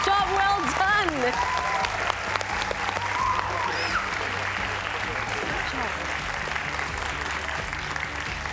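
A crowd applauds a runner-up team at the grand final of a Singapore national science competition, continuous dense clapping under an announcer's amplified voice.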